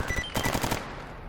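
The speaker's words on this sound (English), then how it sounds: "Oh, we got him. Nice shooting, Rogue." Rapid automatic gunfire in the shooter game STALKER Anomaly, a loud close burst of several quick shots followed by a fading tail.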